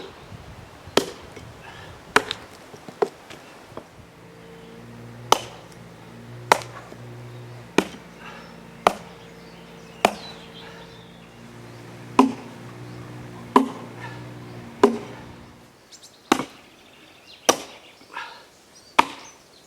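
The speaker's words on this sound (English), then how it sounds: "so we should be able to use the axe again." Axe blows biting into a solid oak trunk while an owl sculpture is roughed out, sharp separate thwacks at an irregular pace, roughly one every second or two, close up with quiet between strikes.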